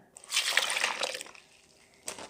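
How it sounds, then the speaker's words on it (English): A short stream of water splashes and trickles into a bowl of curly fry batter for about a second, then fades, followed by a brief final splash; close and fairly soft. "help me put the water in"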